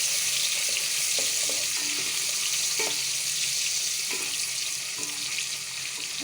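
Thinly sliced onion fries in a cup of hot ghee, a steady, close hiss of sizzling with a few soft stirring taps underneath.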